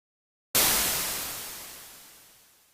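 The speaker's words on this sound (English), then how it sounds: "First I'll create the bassy rumble of the explosion." A single synthesized white-noise burst hits abruptly like a bassy explosion rumble, then decays slowly into a dull, fading hiss over a couple of seconds.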